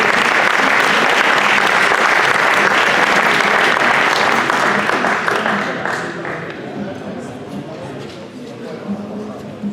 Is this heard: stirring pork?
no